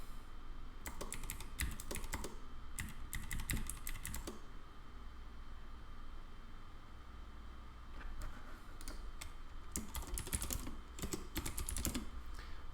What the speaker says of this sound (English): got to get used to typing on this thing again.